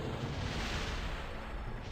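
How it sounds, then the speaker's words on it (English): Explosions in the Kerbal Space Program video game: a dense, continuous rumbling roar of blasts held at a steady loud level throughout, with no talk over it. "There were explosions, but I think the explosions were elsewhere"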